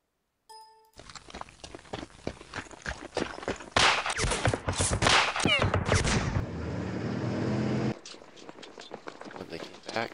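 Infantry guns firing in the wargame Campaign Series: Rising Sun, a run of sharp close reports and crackling shots layered under steady talk, followed by a sustained rumbling barrage that ends abruptly.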